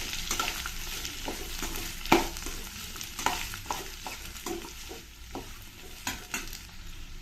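Finely chopped onions fry in a pan for an amla rice dish while a spoon stirs them, giving a soft steady sizzle broken by repeated scraping and clinking strokes, fairly close and quiet, with no talking.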